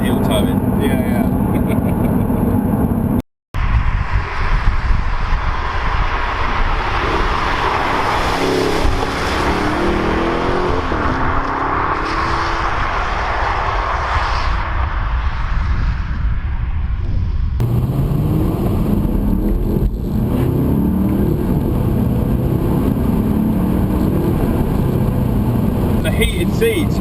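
An Audi R8 with a V8 engine sounds continuously from inside the car while driving with heel-toe downshifts, its steady engine drone sitting under ongoing conversation between occupants.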